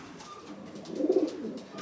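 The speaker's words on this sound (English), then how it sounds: "There's a lot of pigeons in here." Young pigeons in a loft give a soft low cooing call that swells briefly in the middle, faint and close against a quiet room background.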